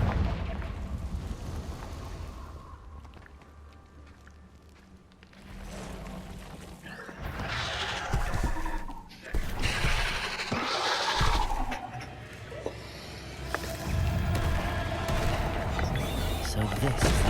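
Fiery Confringo spell blasts in the Hogwarts Legacy video game, a series of booming, rumbling explosions with crackling debris, some spread out and some in quick succession, mixed with game ambience and a voice casting spells.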